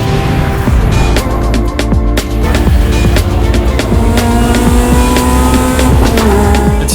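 A Toyota 86 race car in a racing series drives hard on a circuit, its engine roaring loud and close under steady acceleration, with faint tire squeal and shifting revs throughout.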